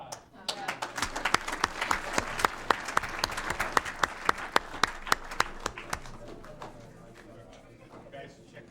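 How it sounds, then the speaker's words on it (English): A round of applause at a board meeting: sharp, close claps build quickly, hold for several seconds, then thin out and fade away. "Another round of applause."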